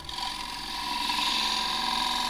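A half-inch spindle gouge cuts a small bead into a warped, rough-turned box elder plate spinning on a wood lathe, giving a steady close scraping hiss that builds slightly louder as the cut goes on.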